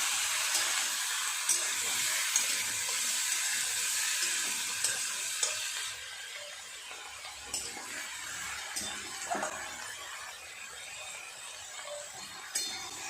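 Taro stolons stir-fry in a hot pan with oil, giving a steady, bright sizzle throughout, with occasional soft scrapes and light clinks as they are turned.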